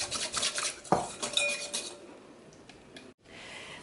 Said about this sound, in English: So let's put this into our salad and mix it in.